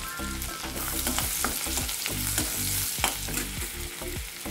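Coriander-cumin powder fries in palak paneer masala in a hot pan, a constant close sizzle with rhythmic spoon scrapes repeating through the stirring.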